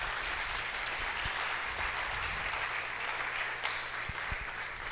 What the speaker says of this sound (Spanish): Denle otro aplauso a Dios por eso.